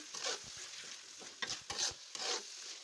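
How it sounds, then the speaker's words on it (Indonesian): Kaffir lime leaves, bay leaves and lemongrass sautéing in a pan, with a faint sizzle and a few soft scraping strokes in a quiet, brief stretch of stirring. "Kemudian Uma tambahkan daun jeruk, daun salam, dan serai. Kita tumis sampai harum."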